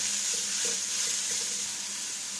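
Grated red carrots sautéing in ghee in a kadai, giving a steady hissing sizzle with faint soft stirring clicks, close and continuous, no talking.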